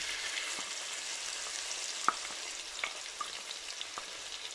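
Onions dropped into hot oil in a wok give a soft, steady frying sizzle with occasional faint pops and crackles, fairly quiet.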